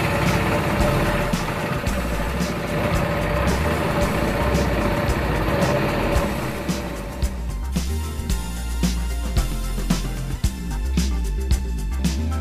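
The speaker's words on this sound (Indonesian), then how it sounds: "mengendarai perahu mesin atau boot ke tengah Rawapening" A motor boat engine idles steadily on Rawapening lake, a low continuous rumble with a loud, even level throughout and no talk over it.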